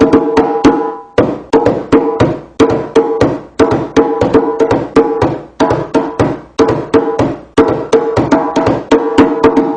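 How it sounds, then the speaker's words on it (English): A djembe plays the universal break, then moves into a calypso rhythm and ends with the break again. Sharp, close hand slaps and deep bass tones repeat in tight rhythmic groupings with brief gaps between phrases. "I'll play the universal break and then into calypso, and then universal break to signal the end."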